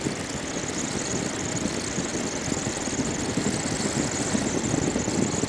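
A Suzuki DR650 motorcycle engine drones steadily in fifth gear on the street, a loud continuous hum mixed with broad wind rush, with no voices.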